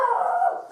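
A dog howls in a single short, sustained wail that holds steady and then tapers off. It is heard on its own, fairly close and clear, with no talking over it.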